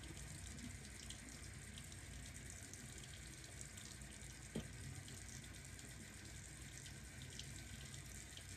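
Tap water runs steadily and softly into a sink while someone scrubs with a sponge brush, with one brief knock partway through and no talk.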